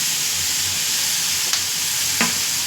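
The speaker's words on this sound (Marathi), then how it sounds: "आता त्याला फ्राय होऊ देणार आहे." Frying in a pan with pizza mix and oregano added, a loud steady hiss of sizzling oil close by, broken by a couple of sharp clinks of a utensil against the pan.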